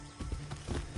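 Horse hooves clip-clopping in a video game, a quick run of soft, close hoofbeats in uneven rhythm over about a second of low ambient noise.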